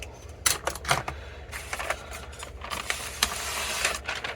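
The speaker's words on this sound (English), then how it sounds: "I'm going to grab a little craft knife and open up this sticker seal so that I don't damage the paper." A small craft knife slits open a paper sticker seal at close range, making a run of short, dry scratching and ticking cuts in quick, uneven bursts against a quiet room.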